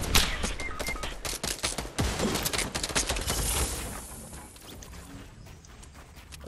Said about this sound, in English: Oh, that's real firing right there.